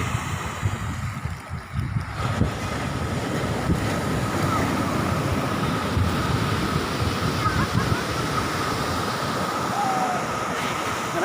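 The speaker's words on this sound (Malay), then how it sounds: "ombak besar." Loud, continuous roar of large sea waves breaking on Alu Bangki beach in Bireuen, Aceh, with wind buffeting the microphone and a faint voice briefly in the background.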